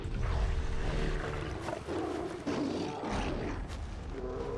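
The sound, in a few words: cave lions roaring and fighting in Far Cry Primal, video game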